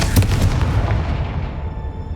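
Confringo, an explosive spell cast in Hogwarts Legacy, lands as a booming blast with rumbling crackle that gradually fades out over about two seconds, with no voices.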